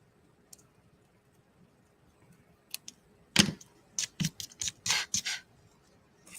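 Scissors or a paper trimmer slicing Hues of Happiness designer series paper for a 12x12 scrapbook layout, heard as a quick run of close, crisp snipping bursts after a quiet start.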